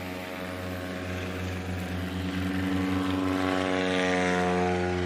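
A propeller airplane at a STOL short-takeoff competition in Pinedale, Wyoming, its engine droning steadily with a strong buzzing hum that grows gradually louder as it takes off, heard alone without talk.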